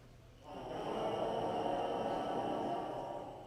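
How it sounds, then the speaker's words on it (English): Trombones and euphoniums in a fifth-grade school band buzz on their mouthpieces, producing a lower, sustained collective buzz that rises in and holds for about three seconds without talking. "And the trombones and the euphoniums also buzz on their mouthpiece"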